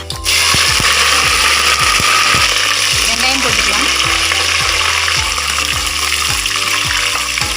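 Fenugreek seeds and mustard tempering in hot sesame oil for a sundakkai kuzhambu, a loud steady sizzle with rhythmic ladle scrapes and clinks against the pan throughout.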